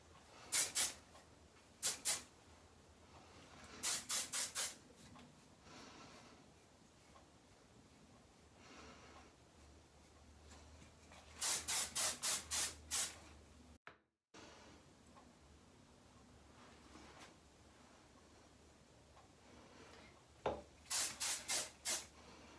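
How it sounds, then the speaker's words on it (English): Aussie Instant Freeze hairspray is sprayed on hair in short, sharp bursts, several quick pulses in groups separated by quiet gaps, close and clear with no talking. "And now I'm gonna hit it with my favorite hairspray, the Aussie Instant Freeze Hairspray."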